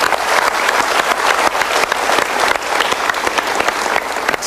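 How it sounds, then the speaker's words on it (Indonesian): A full, steady round of crowd applause for a woman on stage: close, loud clapping that continues without a break from start to finish. "Oke, kita berikan tepuk tangan untuk ibu."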